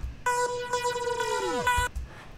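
Synth tones run through a frequency shifter set to 50%, giving stacked metallic harmonics that pulse in short repeated bursts, with a tone gliding steeply downward near the end, alone and moderately loud.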